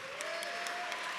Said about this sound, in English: give the Lord a hand clap up there.